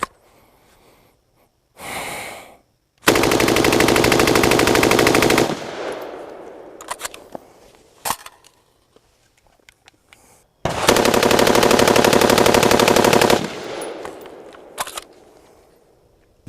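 Recorded automatic gunfire from the Las Vegas shooting, fired from an elevated position: two long, loud sustained bursts of rapid fire, each several seconds, separated by a gap with scattered pops and echoes, plus a brief earlier burst.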